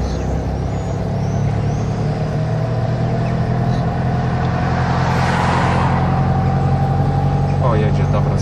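Road traffic rumbles steadily close by as a car approaches, with a low engine drone under a rising swell of noise and brief airy hisses.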